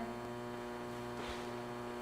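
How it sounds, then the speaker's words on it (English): Steady electrical mains hum with strong harmonic tones runs unbroken at an even level, accompanied by a faint crackle of static and a brief soft pop partway through; no voices. "And the hum is there,"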